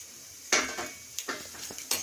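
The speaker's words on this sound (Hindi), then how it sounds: "खड़ा हुआ मसाला मैंने इसमें डाल के अच्छी तरह से भूनना है।" Whole spices roast in a pan for a shahi paneer gravy. Several sharp metallic scrapes and clinks of a spoon sound close and loud over a faint sizzle.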